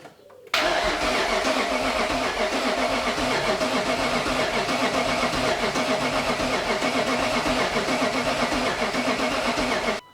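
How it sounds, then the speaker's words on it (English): A BMW E31 fitted with a swapped S62 engine has its starter motor crank after a short quiet moment, a loud, steady whirring grind that runs without pause to the end of the clip. "if I'm gonna turn the key now, the starter motor should turn"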